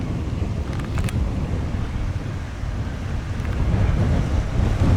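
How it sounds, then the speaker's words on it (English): Strong, wild wind buffets the microphone outdoors at a 1940s-themed weekend event in West Somerset, a steady low roaring rush with no voices. "Really wild wind blowing."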